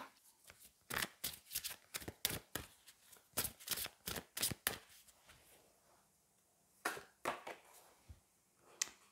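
Oracle cards from the Magic of You deck being shuffled close up: a quick run of crisp riffling slaps and flicks in bursts, a pause, then a few more shuffles, quiet and without talk.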